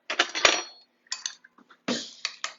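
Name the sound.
stirring fajita mixture in a pan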